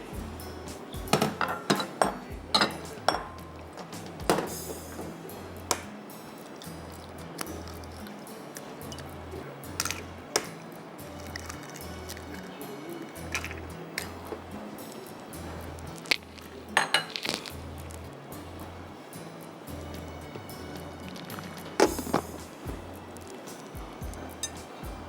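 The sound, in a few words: whisking two eggs in milk in a bowl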